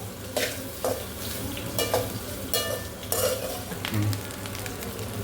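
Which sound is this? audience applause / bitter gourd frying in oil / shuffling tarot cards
bitter gourd frying in oil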